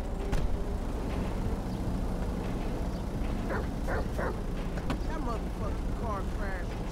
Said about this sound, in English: Hey, I like your dog, homie.